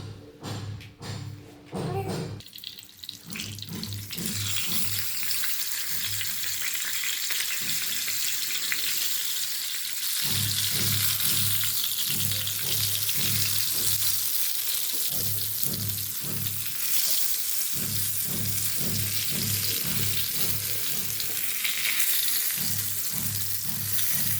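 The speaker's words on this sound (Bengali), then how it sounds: "বেগুন ভাজা হয়ে গেছে" Eggplant frying in oil gives a steady, loud hiss of sizzling that continues throughout, with occasional stirring and utensil knocks close by and little talk.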